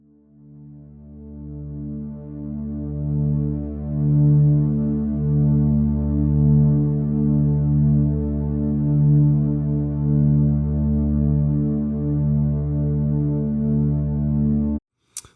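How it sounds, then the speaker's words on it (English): A mellow ambient synth pad holds a warm, low-filtered chord with gentle slow pulsing for several seconds, then cuts off abruptly. "So we've got mellow ambient pad. This is the first version."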